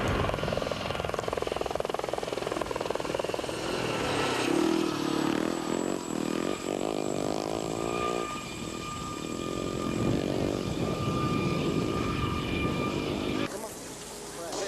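A helicopter landing at the 1985 Baja 1000 off-road race roars steadily nearby with rotor and engine for the whole stretch, loud and continuous, pitch shifting slightly as it descends.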